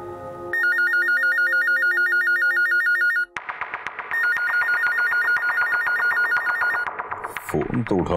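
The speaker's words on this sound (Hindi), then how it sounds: "फोन तो उठाओ" A telephone rings loudly in a repeating electronic trill, pausing once and then resuming, with a brief clatter at the end.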